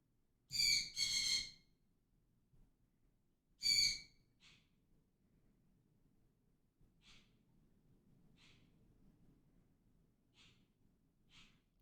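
A pet bird calls in the background of a quiet room, sounding upset: two strong raspy, squawk-like bursts early on, then a string of faint, brief chirps spaced apart over low room noise, with no speech.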